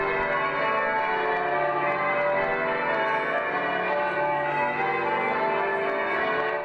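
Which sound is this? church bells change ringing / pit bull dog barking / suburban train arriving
church bells change ringing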